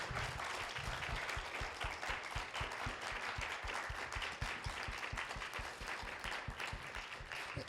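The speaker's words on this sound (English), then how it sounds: "Let's give once more the very, very strong applause." A panel discussion audience gives sustained applause, many hands clapping in a dense, even patter that stays steady throughout, heard from a moderate distance and fairly quiet.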